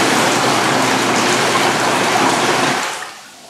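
Air jets bubble water in a Woodbridge B-0034 / BTS1611 freestanding whirlpool air tub, a loud, dense rushing fizz that runs steadily and then dies away near the end.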